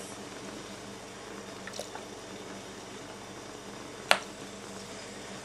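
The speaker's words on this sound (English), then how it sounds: "In a double boiler, boil your milk with the lemon essence." Milk with lemon essence simmers in a double boiler, giving a faint, steady bubbling hiss close by, broken by one sharp click near the end, with no talking.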